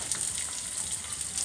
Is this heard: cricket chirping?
no